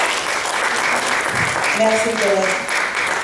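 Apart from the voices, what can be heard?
audience applause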